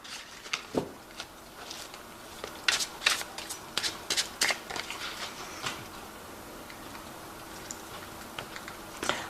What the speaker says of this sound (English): I have shuffled this deck,